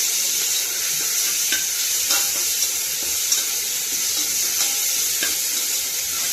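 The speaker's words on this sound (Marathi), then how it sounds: "मिरची, अद्रक लसूणचं वाटण टाकायचं आहे आधी। ते फ्राय करून घ्यायचं चांगलं।" Green chili, ginger and garlic paste frying in a pan for masale bhat, a steady loud sizzle and hiss with occasional soft scrapes of a spoon stirring.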